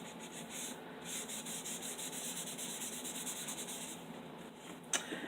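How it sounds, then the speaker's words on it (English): Paper page rubbed back and forth over the front of a napkin-decorated card, a steady soft scratchy rubbing heard close up and alone, with one sharp tap near the end. "I'm just going to take that and rub the front side of it."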